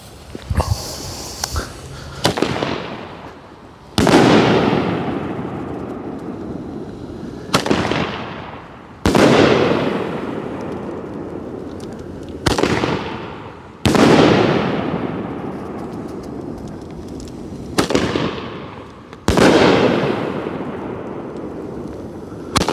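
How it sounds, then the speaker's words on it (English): A Black Dragon seven-shot firework cake from Supreme fires outdoors: seven loud, sharp booms spaced a few seconds apart, each followed by a crackling, decaying tail, with faint bangs between them and no talking. "we have 7 shots out of the Black Dragon"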